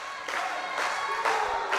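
A wrestling crowd at an East Coast Pro Wrestling show cheers and claps in swelling bursts, a dense roar of applause rising and falling over a couple of seconds.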